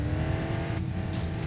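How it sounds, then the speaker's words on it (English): Car engine in a racing video game with trucks, a steady, continuous loud drone with faint revving, heard alone without talk. "we've heard the engine again"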